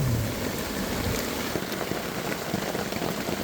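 Steady rain pours down outdoors at a flooded shooting area, a dense, constant hiss of drops striking surfaces, fairly close and uninterrupted, with no talking.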